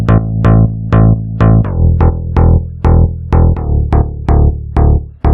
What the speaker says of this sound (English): So it's a DX bass from a sample pack.